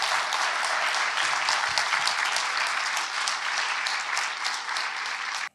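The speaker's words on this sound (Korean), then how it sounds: "나오실 때 큰 박수로 보내주시기 바랍니다" Sustained audience applause at a democracy talk concert as a historian is welcomed onto the stage, steady dense clapping throughout that stops abruptly at the end.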